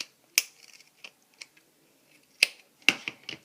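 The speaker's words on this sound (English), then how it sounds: "And cut off any of the sticky you see on the sides here." Scissors snipping through folded duct tape at close range: a few sharp, quiet clicks and short cuts spaced irregularly, with faint rustling between them and no talk.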